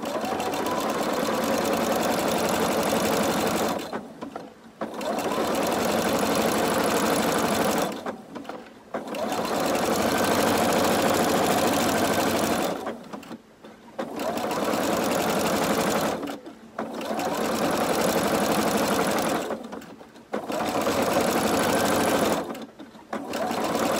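A sewing machine stitches across skirt seams in several long, steady runs, each broken by a short pause as it stops and the fabric is turned, with a faint voice at times.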